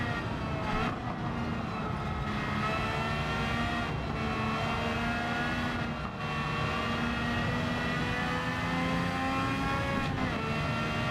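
A race car in Gran Turismo 7 on a time trial lap, its engine a continuous loud drone with rising and falling pitch as it shifts through gears and brakes into corners.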